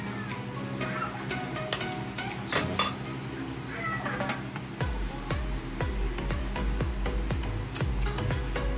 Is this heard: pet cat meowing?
yes